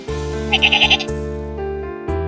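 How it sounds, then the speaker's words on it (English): A sheep bleats close by, a wavering nasal call with a quick trembling middle, over steady background music. "Sheep,"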